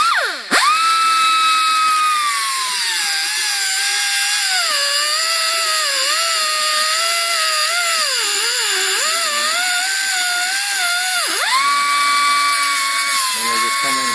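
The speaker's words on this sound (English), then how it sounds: "And we'll just come in here and grind the side a little bit." A power grinder cuts into the metal side of a stock emergency brake cable fitting being adapted to a Wilwood disc brake, a steady high whine running loud and close for the whole span with slight dips in pitch as the load shifts.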